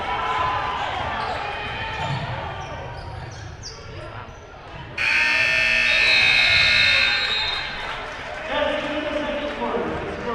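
A loud, sustained electronic buzzer marks the end of the half at a high school varsity basketball game in a gym, sounding for about two seconds over crowd noise, squeaking shoes and an announcer talking.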